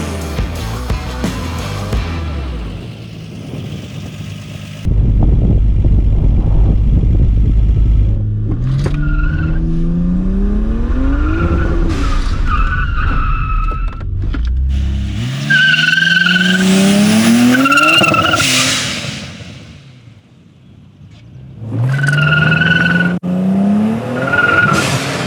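A car launching on a drag strip at a build-off event, with a loud engine roar climbing through several gear changes, tyre noise, then a fading pass and another engine winding up near the end.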